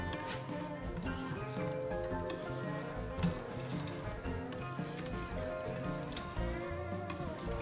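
Whipped ganache being folded into a first chocolate preparation for a Yule log cake, a steady soft scraping and patter of utensil against bowl under a continuous kitchen background.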